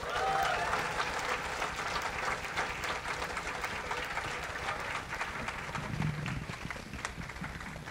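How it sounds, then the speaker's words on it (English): Sustained applause from an awards ceremony audience welcoming a spoken word artist to the stage, a dense, steady clatter of clapping lasting throughout at fairly loud, even level. "please give a big round of applause for spoken word artist"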